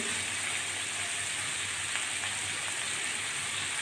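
Bitter gourd pieces coated in turmeric, with green chilies, fry in a pan. A steady, even sizzle runs continuously at moderate volume with no voices.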